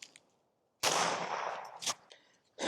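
A single suppressed .22 rimfire shot using Norma ammunition, fired through a very small suppressor, cracks sharply and close, followed by a short decaying tail and a few mechanical clicks.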